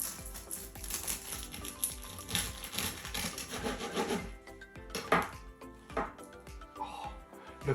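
A knife chops through a crispy, freshly fried homemade spring roll, the shell crackling with rough, scraping crunches in close, busy bursts that ease into scattered softer crackles.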